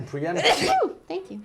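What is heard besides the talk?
sneeze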